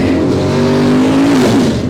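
Modified race cars roar loudly nearby at Mississippi Thunder Speedway, engines droning at high revs with a steady pitch that dips toward the end.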